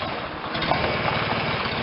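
An old pony tractor engine cranks and catches, running as a rough, steady, close-up putter throughout with no break.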